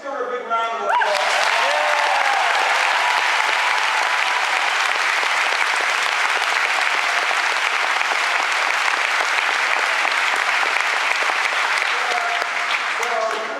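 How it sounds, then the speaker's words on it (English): A college audience applauding at a senator's town hall in Albany, Oregon, a dense sustained roar of clapping that starts right after a brief voice and carries on steadily for over ten seconds. "a round of applause."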